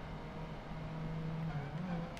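Ford Focus RS engine in Project Gotham Racing 2, a faint, steady engine drone with a low hum that rises slightly in pitch near the end, with no talk.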